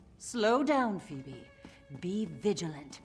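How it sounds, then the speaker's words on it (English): A cat meows a few times inside Elder Scrolls Online, its cries mixed with in-game character voices and dialogue. "Oh, that's a cat."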